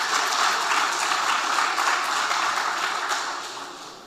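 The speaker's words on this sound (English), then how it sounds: "Let's give her a round of applause." A crowd claps steadily in dense, sustained applause that fades slightly toward the end.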